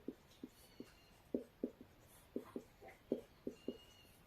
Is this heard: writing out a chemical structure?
yes